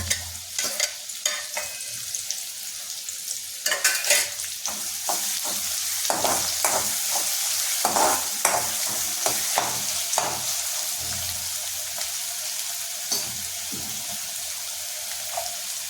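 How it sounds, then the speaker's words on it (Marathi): Crushed garlic and green chilli hit hot oil in a pan already holding onion, a strong continuous sizzle with a spatula scraping and stirring at irregular intervals, close and loud. "आता ठेचलेले लसूण आणि मिरची टाकायची."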